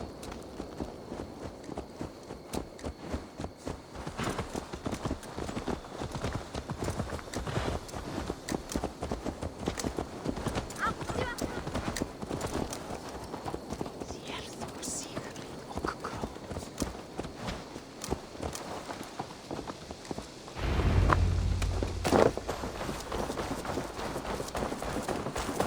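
A horse's hooves clip-clop in a steady rhythm through the Assassin's Creed Valhalla game world, continuous and fairly close, with a brief louder thud of movement near the end.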